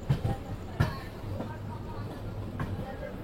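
Train passing on the railway line beside a moving passenger train, heard as a low steady rumble with a few sharp knocks and rattles, moderately close and continuous for a few seconds.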